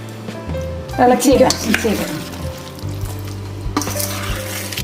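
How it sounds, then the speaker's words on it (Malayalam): Mustard seeds crackle and sizzle in hot oil for a tempering added to curd rice, with a busy spluttering burst loud and close, a steady hum underneath. "ഇനി നമുക്ക് കടുക് വറുത്തിടാം ഇതിലേക്ക്"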